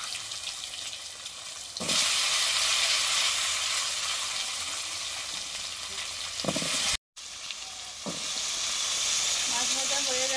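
Whole five-spice seeds crackle and sizzle in hot oil for a Bengali rohu fish sour curry, a loud steady fry close to the pan with brief stirring clatters and a short cut in the middle.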